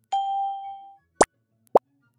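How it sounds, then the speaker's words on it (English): Interface and prompt sound effects: a clean sustained chime tone that fades after about a second, then three short, sharp plops or pops spaced apart against silence. "Listen to the UI and prompt sounds."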